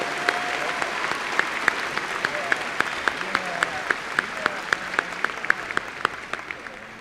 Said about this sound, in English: Let's have a round of applause for our December 2019 doctoral and master's degree graduates from West Texas